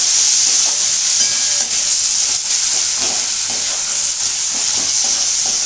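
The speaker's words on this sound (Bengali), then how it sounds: "তো পেঁয়াজটা ভালো করে ভাজি।" Onions fry in a pan for an egg and potato curry, a steady close sizzle with occasional stirring scrapes, loud and continuous with no talking.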